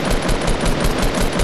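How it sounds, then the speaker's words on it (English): Dense, continuous automatic gunfire in the battle royale video game Fortnite, loud and close with rapid overlapping shots that barely let up, heard alone without talk. "There's more shooting."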